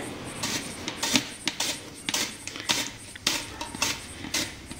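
Raw banana being sliced at a slant into chips, likely on an oiled slicer, giving a series of sharp, irregular cutting strokes at close range with no talking.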